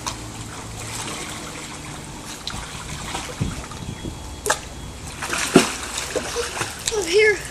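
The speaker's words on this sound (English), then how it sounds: "Can you swim over this way, Henry?" A child swimming in a pool: soft splashes and sloshing water grow busier toward the end, heard close by under an adult's encouraging voice.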